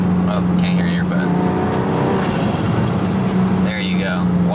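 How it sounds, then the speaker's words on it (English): A single-turbo BMW F80 M3 holds a steady, loud engine drone from close by, with brief fluttering chirps of the turbo appearing twice. "you guys can hear that turbo flutter"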